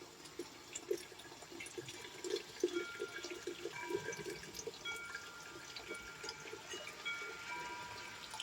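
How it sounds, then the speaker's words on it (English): Boiling hot water pours and splashes steadily into a canning pot while mango jam is being canned, a soft continuous trickle with a few brighter splashes, faint and heard alone without talk. "I'm going to add the boiling hot water."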